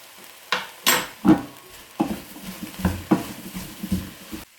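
Jackfruit with garlic and ginger is stirred in a pan, with irregular scraping strokes and soft sizzling that come in short, close bursts separated by brief pauses.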